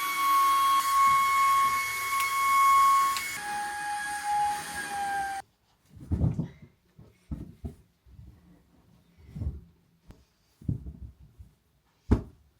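A vacuum cleaner hoovering a sofa, a loud steady whine that cuts off about halfway through, followed by scattered short knocks and rustles.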